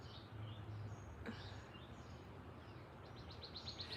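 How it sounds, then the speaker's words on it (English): Small birds chirp faintly on a quiet morning, with a few scattered tweets early on and a quick run of repeated chirps near the end, all over a soft steady background hiss. "The birds are so sweet."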